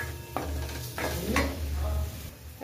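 Chopped tomato is stirred into vegetables frying in a pan, with a few distinct spatula scrapes and knocks over a steady, close sizzle.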